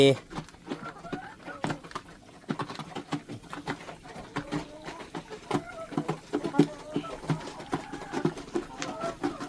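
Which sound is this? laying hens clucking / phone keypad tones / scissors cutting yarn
laying hens clucking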